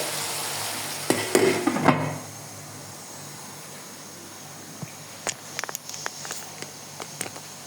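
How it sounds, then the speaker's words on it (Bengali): Mutton with onion, garlic, ginger and chili cooks in a pan. A brief burst of stirring and scraping rattles near the start, then a soft steady sizzle continues under scattered light clicks and utensil taps. "মাংসের পরিমাণ দেখে পেঁয়াজ রসুন এবং আদা মরিচের কুচি এটা একটু রান্না হতে থাক"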